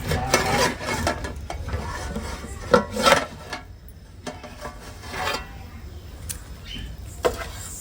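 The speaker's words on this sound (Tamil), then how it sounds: "சரக்கு சரக்குன்னு கொதிக்குது சல சல சலன்னு கொதிக்குது பாரு" Thick fish curry bubbles and pops in a pot, with scattered clinks and scraping from a utensil, close by.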